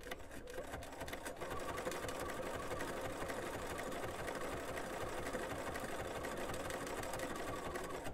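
A sewing machine stitching fabric applique with small stitches, a steady close rapid mechanical chatter running continuously at an even pace.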